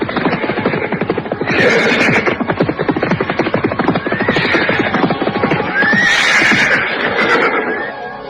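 A cavalry troop rides up to a large, luxurious mansion, with loud horses neighing and whinnying over a dense, continuous clatter of hooves and commotion.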